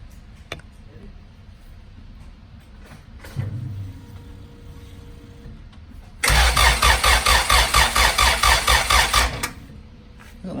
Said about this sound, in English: Can you turn your car over?